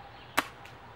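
A Daisy Model 25 pump-action air rifle fires once, a single sharp crack near the middle, followed by a faint second click, with quiet background noise and distant speedboat engines from Lake Erie.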